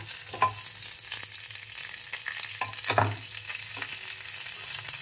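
A dry chili, curry leaves and mustard seeds frying in hot oil, a steady crackling sizzle with occasional louder pops and spatter bursts, close up and without talking.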